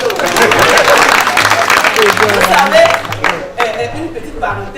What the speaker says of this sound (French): Applaudissez pour les papatos.